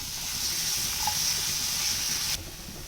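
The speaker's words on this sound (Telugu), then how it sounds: "పచ్చివాసన పోయేదాకా వేయించుకుందాం." Ginger garlic paste and green chili paste frying in a pan, a steady soft sizzle and hiss that drops off sharply near the end.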